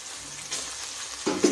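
Two bay leaves drop into hot oil and give a brief soft sizzle, followed by a short clatter near the end.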